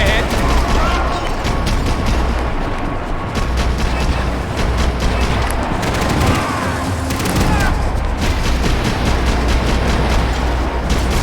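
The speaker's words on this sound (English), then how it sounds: "I can't concentrate with bullets running past my head" Max Payne 3 combat brings dense, continuous gunfire with rapid bursts and booming shots, a loud, chaotic barrage under voices that carries throughout.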